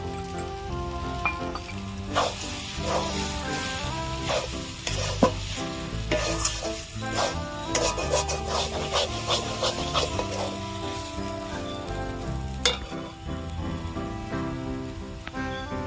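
Peanuts frying in a pan and being stirred, with a steady sizzle and scraping that runs throughout, close up, against a tonal background.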